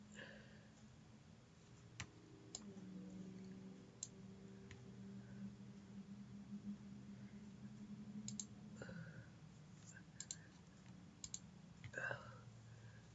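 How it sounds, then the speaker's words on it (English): Keys typed on a computer keyboard while scripting a Unity 2D drag tutorial in MonoDevelop, irregular soft clicks and taps close by over a steady low hum, with faint murmuring underneath. "Me typing."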